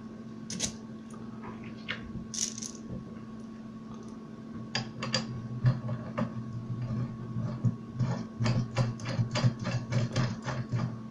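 A part of a BMW manual gearbox shifter being screwed in, heard as a run of small metallic clicks and ratcheting ticks that grow denser and more regular toward the end, close by over a steady low hum.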